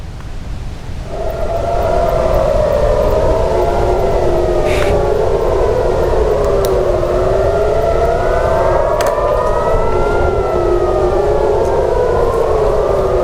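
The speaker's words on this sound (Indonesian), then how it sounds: "membuat sirine peringatan meraung di seluruh penjuru kota Tel Aviv" A civil defense air-raid siren wails continuously across Tel Aviv during an Iranian missile attack, its pitch rising and falling in slow overlapping waves, loud and sustained across the whole stretch.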